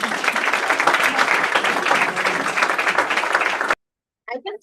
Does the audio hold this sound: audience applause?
yes